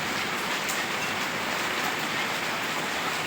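Heavy rain pours steadily, a dense unbroken hiss of drops hitting surfaces close by, with no voices.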